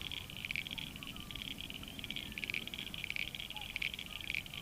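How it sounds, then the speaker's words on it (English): Frogs chirp at night by the Murray River in a continuous rhythmic chorus, high-pitched trills pulsing steadily at a distance over a quiet, low background hum. "The frogs are chirping."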